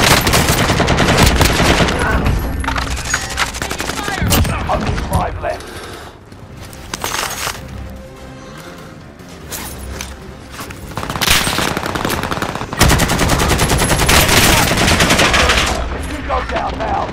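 Hostile gunfire in a battle-royale style video game crackles loudly for most of the stretch, with sustained automatic bursts and rapid shots that ease briefly in the middle before returning at full intensity.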